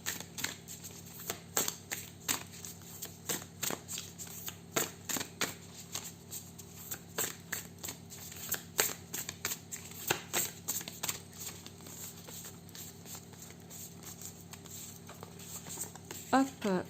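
Ancient Egyptian healing oracle cards being shuffled: soft, rapid riffling and flicking pulses repeating steadily and close up, with a quiet voice talking throughout.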